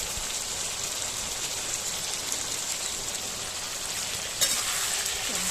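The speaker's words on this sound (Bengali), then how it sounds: "টমেটোটা দিয়ে একটু কষিয়ে নেব।" Tomatoes fry in a pan for a fish curry with snakehead catfish, pointed gourd and potato, producing a loud, even hiss like rain that runs throughout. One sharper scrape of stirring comes near the end.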